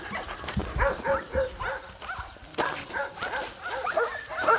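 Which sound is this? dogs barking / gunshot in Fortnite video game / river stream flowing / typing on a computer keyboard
dogs barking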